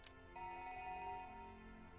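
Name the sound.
cell phone ringing in video game 428: Shibuya Scramble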